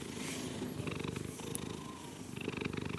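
A multicolored cat purrs right beside a close microphone, a steady rhythmic rumbling purr that pulses with each breath and stays loud and up front with no talking.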